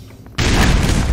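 A grenade detonates in Black Mesa, a sudden loud close-range boom after a brief quiet lead-in, its roar sustained to the end of the short moment.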